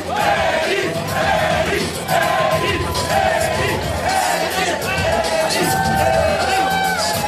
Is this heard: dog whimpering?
no